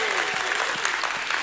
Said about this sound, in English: Somebody give God a hand clap and a shout of praise.